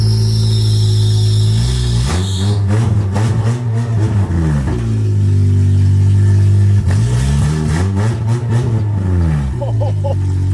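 A loud Honda K20 four-cylinder engine in a Civic idles and revs hard twice, close by, the pitch sweeping up and dropping back between bursts.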